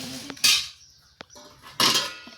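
Serving plates for dhokla being set down one after another, two loud ceramic clatters with lighter knocks between them, close by.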